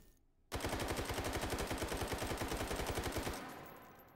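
AK-12 prototype rifle in the game Hot Dogs, Horseshoes and Hand Grenades fires one unbroken full-auto burst of about three seconds, loud, close and evenly paced, emptying the magazine before the sound dies away in a short tail.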